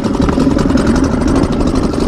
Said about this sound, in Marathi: मस्तपैकी इंजिन तर स्टार्ट झालाय